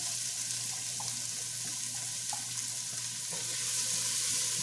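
Chopped onion hits a hot pan of beef tomato sauce for spaghetti, giving a steady, close broadband sizzle with a few light stirring clicks and no talking.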